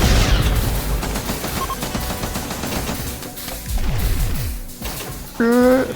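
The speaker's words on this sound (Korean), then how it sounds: "플라즈 토카막 기관총, 도넛 형태의 플라즈마 발사하는 무기" A plasma tokamak machine gun in RimWorld firing donut-shaped plasma bolts, a dense stream of crackling shots and crashes with a short rising electronic chirp at the end, loud and continuous.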